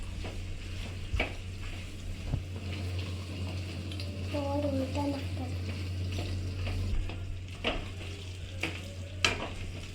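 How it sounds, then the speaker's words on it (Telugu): Cooked gongura leaves get stirred into chicken curry frying in a pan, with a steady close sizzle, scraping strokes of a spoon and occasional clinks against the pot, plus a low background hum. "ముందుగా మగ్గించి పెట్టుకున్న గోంగూర వేసుకొని కలిపేసుకోవాలి."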